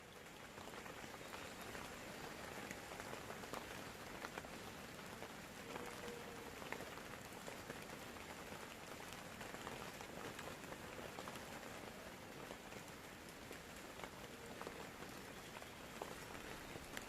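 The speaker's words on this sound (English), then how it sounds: "it's been raining continually throughout the night" Rain patters steadily on a Dutch army canvas tent at night, a dense, even hiss of drops on fabric, continuous and unbroken with no voices.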